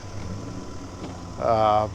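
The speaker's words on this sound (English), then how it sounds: "Unmistakable sound of the A-series engines." A small Morris A-series car engine idles with a low, steady rumble at a classic car run, joined near the end by a brief burst of voices nearby.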